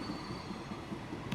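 A fast train from the Transport Fever 2 game rolling past, a steady rumbling rail drone with faint rhythmic wheel clatter and a brief squeal near the end.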